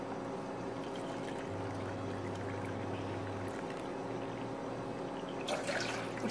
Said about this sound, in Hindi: सबसे पहले हम ये इसी कप से 2 कप पानी डालेंगे।